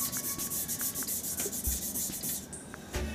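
A clear blue and gold epoxy resin shaving brush handle is sanded by hand, with steady, close back-and-forth rubbing strokes in an even rhythm.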